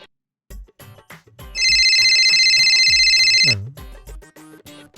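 A phone's electronic ringtone sounds once for about two seconds, loud and close, between short bursts of talking in a Telugu short film scene.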